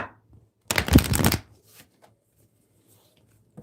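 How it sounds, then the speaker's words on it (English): Tarot cards shuffled in one brisk riffling burst lasting under a second, loud and close, followed by quiet handling and faint small rustles. "Let's do one more shuffle here."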